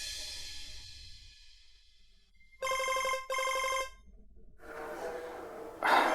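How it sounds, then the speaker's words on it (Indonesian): A telephone rings in two quick electronic bell bursts, moderately loud, set among softer room sounds and a faint breathy noise before and after. "Sebentar, ada telepon dari pabrik."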